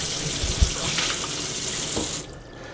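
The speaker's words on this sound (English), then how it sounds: "you really want to make sure you rinse it thoroughly to make sure you don't leave any soap residue in there" A Franke FRX02 water filter rinsed under a running kitchen tap, steady hissing water flow with a few knocks and splashes, then the flow cuts off near the end.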